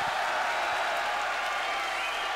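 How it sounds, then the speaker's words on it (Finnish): Steady, broadband applause from a live MMA audience at Fight Fest 25 in Helsinki, Finland, sustaining evenly at moderate level for a couple of seconds with no voices over it. "Ja siellä taputti."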